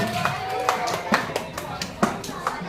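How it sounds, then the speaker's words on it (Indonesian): Students in a classroom coding lesson clap together briefly, a loose run of claps at an uneven rhythm with voices talking over them. "Ya, tepuk tangan untuk kita semua."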